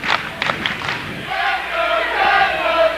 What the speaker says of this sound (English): Not too bad a crowd for tonight's ball game.